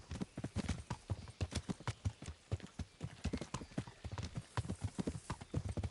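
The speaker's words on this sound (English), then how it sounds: "Your horse is slow, Hans." Horse hooves trotting in the Kingdom Come Deliverance video game, a steady, close rhythmic clip-clop of many quick hoof strikes throughout.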